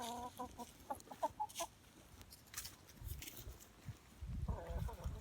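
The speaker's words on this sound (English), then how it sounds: "thought I'd just leave you a quick video of the chickens doing their stuff" Backyard chickens in their run cluck in short, repeated bursts of varying loudness, with scratchy rustling and soft background noise between calls.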